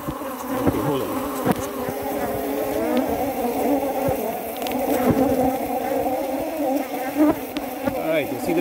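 Honey bees hum continuously around hive frames during a surplus honey harvest, a close, wavering drone with occasional clicks and knocks of frames being handled.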